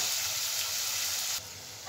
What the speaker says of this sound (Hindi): इसमें प्याज डाल रहे हैं, अच्छे से ब्राउन होने तक चलाते रहना है।